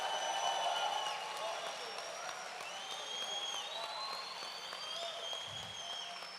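A church congregation applauds together in steady, sustained clapping that fills the room, with cheers and voices mixed into the dense crowd noise throughout.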